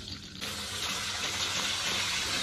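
Fish sliding into hot oil for half pan-frying, half deep-frying for braised fish, the sizzle jumping up suddenly and then holding as a steady, dense, close crackle with no talk.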